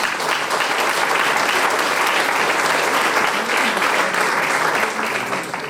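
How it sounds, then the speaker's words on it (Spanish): A church congregation claps during a sermon, a dense, loud, sustained round of applause from many hands that fills the room and tapers slightly at the end. "Démosle un aplauso a Jesús."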